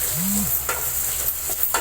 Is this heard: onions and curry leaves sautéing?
yes